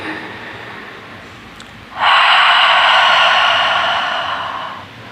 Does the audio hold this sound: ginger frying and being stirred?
no